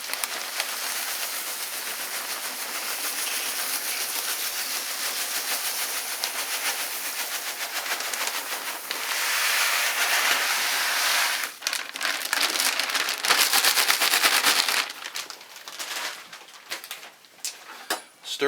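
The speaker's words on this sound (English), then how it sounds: "We'll add a little more grain." Grain being poured into a mash tun for all-grain brewing, a continuous dry rushing, rattling pour that swells and breaks into uneven crackly bursts toward the end.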